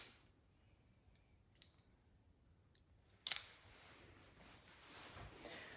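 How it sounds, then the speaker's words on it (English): Scissors point-cut the hair of a short bob, making soft, close snips and clicks, a few scattered light cuts, then one sharper snip followed by faint rustling. "just trim those like this, point cut"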